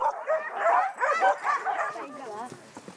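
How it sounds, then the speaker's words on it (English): Sled dogs bred in the Kamchatka wilderness yip, bark and whimper together in a busy, overlapping chorus that trails off into softer whines, fairly close. "They breed sleigh dogs"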